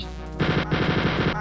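Automatic weapon fire in Wolfenstein 3D, a fast, steady rattle of retro-style shots kicking in after a short lead-in and hammering on without a break, loud and close.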